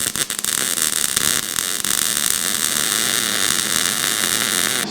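Welding a nut onto a broken-off bolt in the front end of a 1953 GMC truck, a loud steady hiss and crackle of the arc running close up and unbroken, with a few sharp pops near the start.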